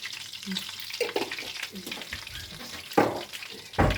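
Plain pişi dough frying in a pan, a steady soft sizzle with a few louder stirring clatters, close by and without speech.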